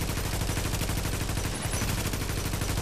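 Steady automatic gunfire from The Division's Dark Zone, a dense stream of rapid shots that runs throughout, loud and close, with one heavier low thump midway.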